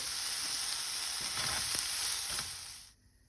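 Onions browning with salt in a hot pan for vegetable pulao give off a steady, dense sizzle that stops abruptly near the end.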